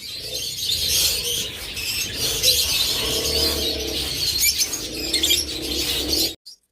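A caged breeding pair of birds offered for sale chirps and coos steadily at close range, with rustling in the background, before cutting off abruptly.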